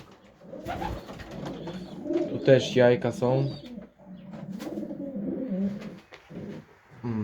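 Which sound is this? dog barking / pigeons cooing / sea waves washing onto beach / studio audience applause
pigeons cooing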